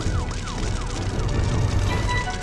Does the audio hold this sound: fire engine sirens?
yes